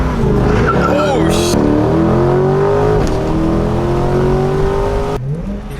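A Corvette's tires squeal loudly under hard acceleration, a sustained rising screech over a roaring engine, with voices shouting close by.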